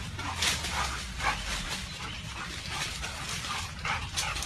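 Several guard dogs bark and yip excitedly at an intruder up a tree, a busy, fairly close run of overlapping barks and whines against a noisy background.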